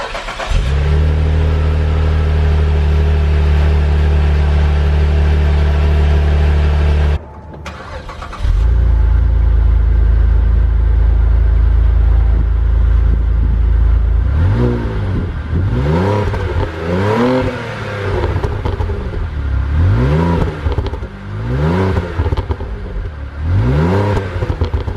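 A Saab 9-3 Aero V6 idles with a loud, deep steady drone, cuts out briefly, then fires back up and revs repeatedly in rising and falling sweeps, the exhaust close and dominant with no voices.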